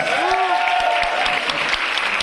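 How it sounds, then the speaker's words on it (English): An audience claps steadily and densely for a runner-up at a Buddhist convention awards ceremony, with a few high shouts or whistles near the start. "Big round of applause."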